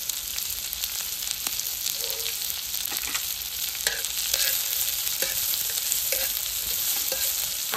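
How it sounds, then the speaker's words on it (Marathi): Garlic, ginger pieces and masala sauté in a pan for a jowar idli chutney, producing a steady hissing sizzle with occasional utensil scrapes and taps, moderately close and no speech. "आपला मसाला आता मस्त परतून झालाय"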